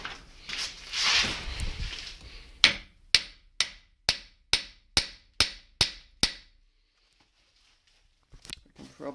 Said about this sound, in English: take a hammer and carefully knock on it